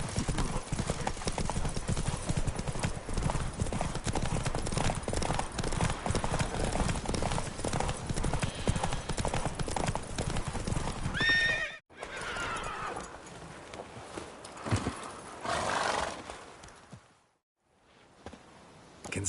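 Roach, a horse in the video game Witcher 3, gallops with rapid, loud hoofbeats and lets out a whinny, then the pounding breaks off and gives way to quieter game sounds and a brief voice.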